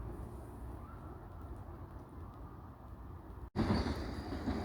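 A train rolling along a railroad, a steady low rumble of wheels on track carrying on without pause, jumping sharply louder after a brief cut near the end.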